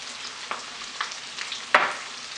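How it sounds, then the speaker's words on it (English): Chili, coriander and turmeric powders fry in a pan for butter chicken, a close soft sizzle with a few spoon scrapes and one sharper knock near the end, no voices. "Just give it a good stir."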